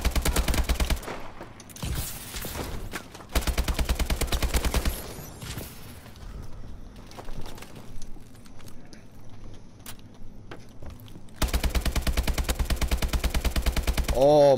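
Rapid AK-47 automatic fire in the video game Call of Duty: Advanced Warfare, coming in several loud sustained bursts separated by quieter stretches of game noise, with a rising tone at the very end.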